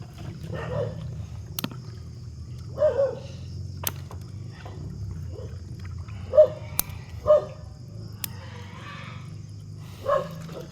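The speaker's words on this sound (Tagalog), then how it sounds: "Maingay po yung aso." A dog barks in scattered single yelps at moderate distance near a river at night, with sharp clicks and a low background rumble between barks.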